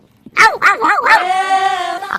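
A person imitates a dog up close: a few quick, yelping barks give way to one long, drawn-out whine, loud and alone with no other voices.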